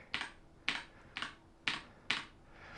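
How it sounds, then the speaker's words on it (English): Five crisp clacks ring out from the keys of an AJAZZ AK 980 V2 mechanical keyboard, evenly spaced, close and clear against a quiet background. "If I press the Windows key,"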